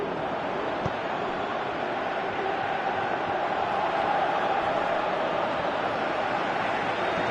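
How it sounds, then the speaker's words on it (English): Stadium crowd in the PES 2018 football video game, a steady, dense roar of many voices holding at an even level throughout, like a distant wash of cheering with no distinct peaks. "you can feel and hear how the crowd are reacting to all of this"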